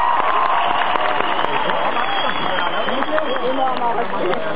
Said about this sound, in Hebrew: תעשו כפיים לעידן יניב